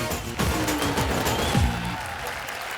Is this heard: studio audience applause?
yes